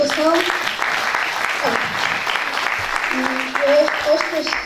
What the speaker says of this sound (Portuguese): Eu acho que ela merece uma salva de palmas.